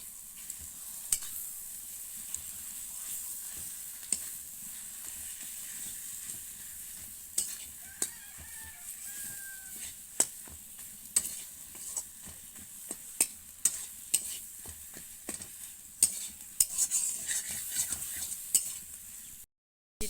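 Ground green banana peel paste frying in spiced oil in a pan for a kachkola khosha bata, with a steady sizzle under repeated scraping and clinking stirs from a spatula.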